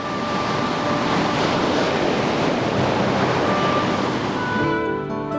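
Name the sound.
ocean waves on the beach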